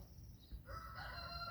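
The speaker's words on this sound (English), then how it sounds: "Chickens are so happy, and the roosters" A rooster crows once in a garden, a fairly faint call rising and holding near the end, with light background noise and no talk.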